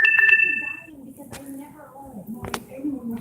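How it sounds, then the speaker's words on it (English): A phone gives a brief, bright electronic notification chime of a few quick tones, followed by quiet room sounds and soft knocks. "Ooh, and my phone is letting me know."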